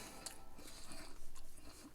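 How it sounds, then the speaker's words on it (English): Close, crisp crunching and chewing from biting into a fried deviled egg, a few soft crackling bites with no talk. "From the fried texture, it has a crunch to it."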